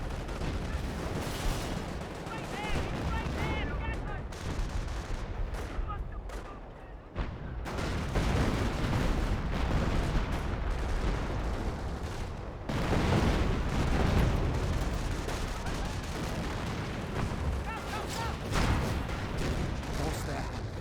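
Tank and artillery fire in the World War II strategy game Company of Heroes 1, heavy booms and rumbling blasts scattered through a dense battle din, with a commentator talking over much of it.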